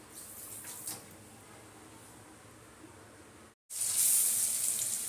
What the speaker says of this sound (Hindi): तो इधर एक एक करके फिश को फ्राई करेंगे।